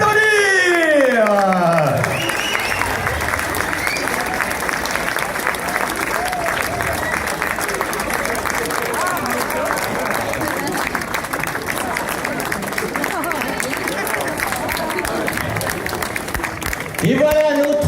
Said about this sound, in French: Mesdames et messieurs, veuillez les applaudir.